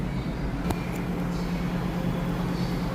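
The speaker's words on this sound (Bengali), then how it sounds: "আপনারা গাড়িটির সাউন্ড শুনে বুঝতেই পারলেন যে গাড়িটির ইঞ্জিল কোয়ালিটি কেমন আছে" A 2021 Bajaj Discover 125 motorcycle engine idles nearby with a steady, low, even hum and no change in pace, heard on its own with no voices.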